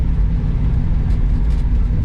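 A 1967 Ford Mustang GT390 with its big-block engine drives along, giving off a steady, loud, low rumbling drone that holds even throughout, with no voices.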